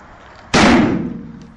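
Detonation of an organic peroxide explosive such as HMTD or TATP, a single sharp loud blast that cuts in suddenly, then decays over about a second into a fading rumble.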